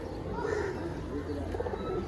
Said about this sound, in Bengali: রক সল্টের ওপরে আসলে পায়রা বসে আছে